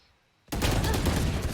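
Pistol gunfire in a CS:GO esports match bursts in after a near-silent start, a dense, loud barrage of rapid overlapping shots sustained to the end.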